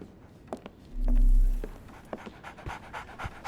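A dog pants in Sherlock Holmes: The Awakened, a near, steady run of quick breaths that swells loudest in the middle, with faint footstep-like taps and small game sounds around it.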